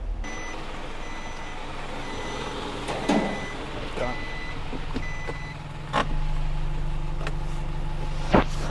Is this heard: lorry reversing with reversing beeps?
yes